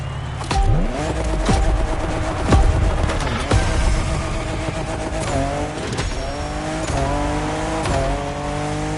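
A 2021 Toyota Super Drift Edition drifting on a mountain touge course in a video game, its engine revving and falling through gear changes while tires squeal steadily, loud and close, with no talking.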